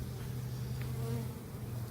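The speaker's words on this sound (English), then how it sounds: "bees are in. They are kind of doing their thing right now." Italian honey bees buzzing at a freshly installed hive, a steady low drone of many wings holding close and even throughout, with no voices.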